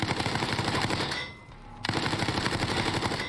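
Rapid machine-gun fire from video game guns rattles loudly and continuously, cutting out for a short gap midway before the sustained burst resumes.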